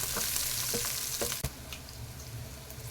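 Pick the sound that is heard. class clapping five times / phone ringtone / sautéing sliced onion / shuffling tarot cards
sautéing sliced onion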